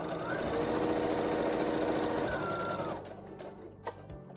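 A sewing machine runs steadily, stitching back and forth over t-shirt fabric for face masks, loud and continuous for about three seconds before stopping, followed by faint handling clicks.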